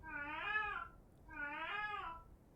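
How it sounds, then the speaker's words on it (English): Two long, rising-and-falling meows from a female cat demanding attention, evenly spaced, nearby and alone. "Cat is looking for attention."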